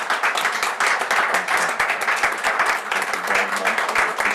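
Applause at a transit agency board of directors meeting after a resolution of appreciation, steady dense hand clapping from a modest room of people, close and even for several seconds.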